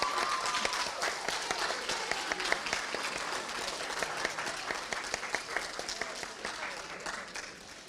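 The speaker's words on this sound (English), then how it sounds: "Let's give them a round of applause." Sustained audience applause at a graduation ceremony honouring team leaders, a dense steady patter of many hands clapping throughout with no voices over it.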